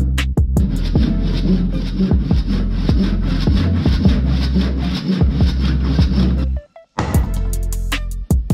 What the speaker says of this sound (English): we've got to cut the end of that beam off.